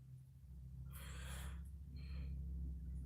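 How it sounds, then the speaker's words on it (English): A person yawning late at night: a long, breathy open-mouthed inhale followed by a shorter, softer exhale, close and quiet, over a low steady hum. "I'm being rude and yawning."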